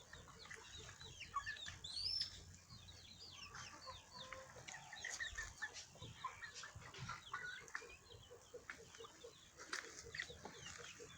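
Young Legbar roosters clucking and chattering softly nearby in a garden, with scattered higher squawks over a faint outdoor background.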